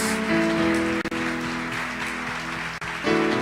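A church congregation applauding during a worship service, a full, steady burst of many hands clapping with a few brief dropouts and sustained tones beneath.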